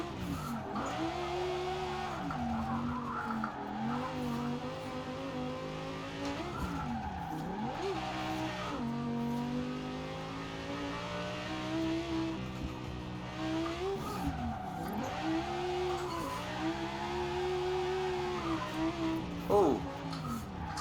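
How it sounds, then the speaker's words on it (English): An Italdesign Zerouno drifting in Forza Horizon 4, its engine revving up and down in repeated sweeping bursts with tire squeal through slides, steady and close, while someone talks at times. "Very, very touchy car in handling, even as a drift car."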